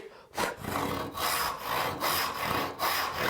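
A hand saw rasps through wood in steady back-and-forth strokes, close up and alone.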